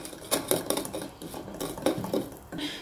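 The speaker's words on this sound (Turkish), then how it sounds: "Yarım su bardağı unumuzu da ilave edelim ve sosumuzu çırpıcıyla karıştıralım." Quick, rhythmic clinking of a whisk against a bowl while stirring a sauce of oil, flour and baking powder, close and fairly bright, with no talk.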